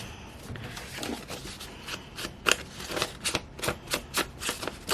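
Scissors cut paper for a junk journal in a run of crisp, close snips that get more regular and rhythmic toward the end, with no voices.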